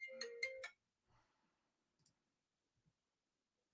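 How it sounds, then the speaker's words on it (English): A phone alarm ringtone chimes in three quick, bright tonal bursts close by, then cuts off, leaving near silence with only a few faint soft clicks afterward. "I keep thinking my phone's ringing, but that's your alarm."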